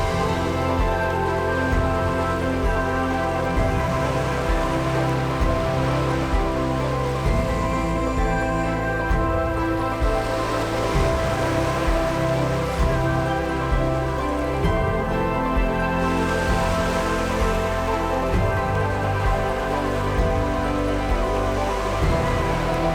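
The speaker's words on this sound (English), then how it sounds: "it's such a soothing sound just hearing the waves" Ocean waves wash continuously onto a shore on Lewis and Harris, a steady dense roar of surf with gentle swells, and no voices over it.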